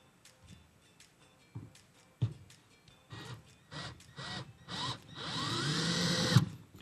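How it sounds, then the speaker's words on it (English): A power drill drives a screw into lumber while a wooden jewellery rack is built, with short whirring bursts that build into a longer continuous whine near the end, heard up close with no talking. "First screw goes in."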